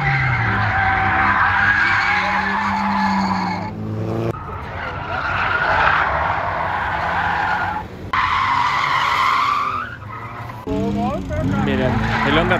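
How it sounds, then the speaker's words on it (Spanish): A front-wheel-drive Honda drifting on the handbrake, its tires letting out long, loud screeching skids in several bursts, with a voice talking over part of it. "Miren, el Honda tracción delantera. Puro freno de mano."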